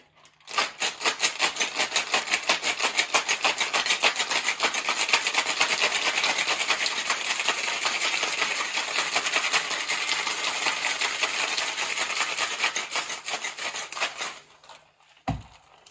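A cocktail shaker filled with ice and a yuzu drink is shaken hard for about fourteen seconds, making a fast, even, loud rattle of ice against metal that stops suddenly, followed by a single clunk.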